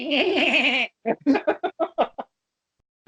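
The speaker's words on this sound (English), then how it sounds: "I can get the goat sound to just" A loud, close goat bleat used as a sound effect: one long wavering, quavering cry followed by a quick run of shorter, choppy bleats, then silence, with no talk over it.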